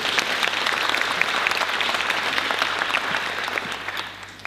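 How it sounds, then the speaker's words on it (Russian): Audience applause fills a hall at a poetry evening in a Minsk cultural centre, a steady dense wash of many hands clapping that holds evenly throughout, close and full. "Аплодисменты."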